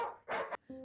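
Dogs barking from a pack that has got into a kitchen, three quick close barks in a row, the last one lower and more drawn out, loud and alone.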